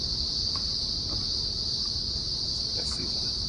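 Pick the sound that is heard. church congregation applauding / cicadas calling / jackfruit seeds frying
cicadas calling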